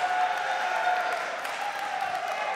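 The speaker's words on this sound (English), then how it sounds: "I'm hearing a good amount of crowd." Live audience cheering and applauding at the 2016 Pokémon TCG US National Championships, a steady wash of crowd noise for Nick Robinson and his Night March deck, sustained and fairly distant without a clear break.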